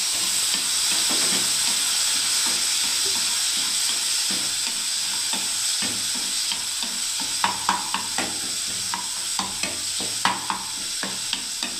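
Water is poured into a pan of frying bitter gourd and eggplant, producing a steady, loud sizzle and hiss with occasional stirring clinks and pops, close and without talk.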